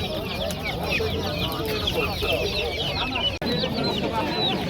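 Many chickens cluck and squawk close by at a busy poultry market, a dense, continuous flock chatter with crowd murmur beneath it.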